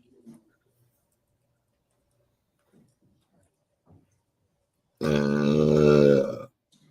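One long, loud, deep burp rolls out for over a second. Before it there are faint scattered clicks and small noises, and no one speaks.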